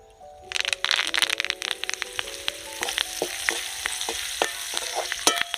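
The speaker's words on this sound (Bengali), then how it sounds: "এবার এই কারি পাতাগুলো ভেজে নেব।" Curry leaves dropped into hot oil for spiced fried flattened rice, bursting into a loud close sizzle with a rapid flurry of sharp pops and crackles that gradually ease into a steadier fry.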